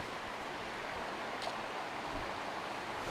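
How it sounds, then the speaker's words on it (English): A small waterfall running under a bridge near Mendenhall Glacier in Juneau, a steady, dense rushing of water that fills the scene evenly without a break, moderately loud and nearby. "That's this little waterfall right here running under this bridge."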